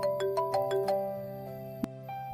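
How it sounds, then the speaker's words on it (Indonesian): A mobile phone rings with a bright, melodic electronic tone, a series of quick chiming notes followed by sustained tones, fairly close and alone without talk. "Tiba-tiba ponsel Airin berbunyi."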